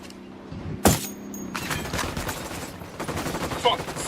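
Sniper rifle gunfire in Ghost Recon Wildlands, a sharp loud crack followed by a busy stretch of firefight noise and a later shot, with a voice speaking over it.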